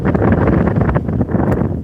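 Loud, rumbling wind buffets the microphone continuously, a dense low roar with gusty fluctuations throughout.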